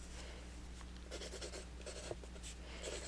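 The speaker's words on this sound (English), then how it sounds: "then I'm going to sign my name on my paper here" A pen scratches across paper as a name is signed during a St. Patrick's Day shamrock collage craft, giving short quick strokes in uneven bursts over a faint steady background hum.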